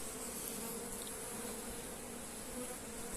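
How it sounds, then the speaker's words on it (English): Honey bees swarming around an opened hive with its honey super removed on a Portuguese farm in summertime, a dense, steady buzzing drone that stays loud and close throughout with no talking. "Okay, so this hive, Bev, I've taken the honey super"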